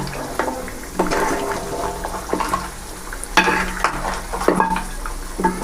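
Tapioca masala is stirred in a pot, giving wet sloshing, scraping and soft clinks at irregular moments over a low background sizzle, close and moderately loud, with no voices.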